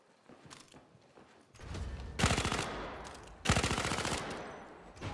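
Rapid automatic SMG fire in the VR shooter Zero Caliber Reloaded, two long bursts of dense, evenly spaced shots, loud and close, preceded by softer handling clicks.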